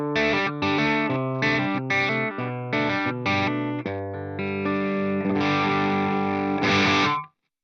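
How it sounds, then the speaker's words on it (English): Electric guitar played through an Atomic Amplifire with its volume knob rolled back for a crunchy, edge-of-breakup clean tone: a run of picked chords and arpeggiated notes, steady and fairly loud, ending in a ringing chord. "roll my guitar volume down a little bit for more of a sort of crunchy,"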